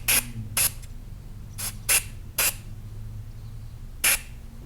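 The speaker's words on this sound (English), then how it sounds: "We'll just spray it out real quick." Short hissing bursts of spray blow out a freshly drilled hole during thread repair, six quick blasts with uneven gaps over a quiet workshop hum.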